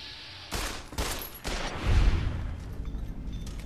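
Several loud gunshots in Fallout New Vegas, a quick run of sharp cracks about half a second apart, followed by a heavier boom and a fading, rumbling tail.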